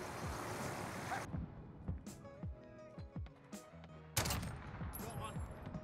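Gold Dragunov sniper rifle fired in Modern Warfare, several sharp single shots spaced a second or so apart amid game noise and explosions, with a player talking in between.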